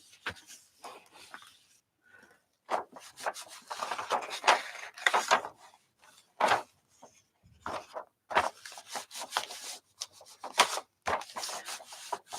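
Paper being rubbed by hand onto a gelli printing plate in a craft session, producing bursts of dry, scratchy rubbing strokes that come close and fairly loud, separated by short pauses, with no talking.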